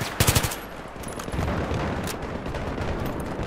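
Gunfire in Battlefield 3: a quick burst of four or five loud, sharp shots, followed by a dense, sustained rumble of battle noise and distant firing, with no speech.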